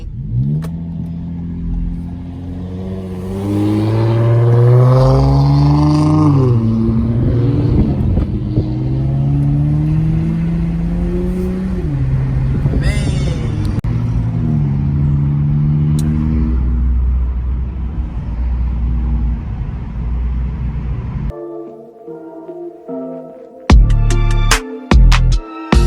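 Engines rev and roar as cars pull in at a graffiti-wall block party car meet, a loud sustained rise and fall of throttle lasting about twenty seconds, then sharp clattering bursts near the end.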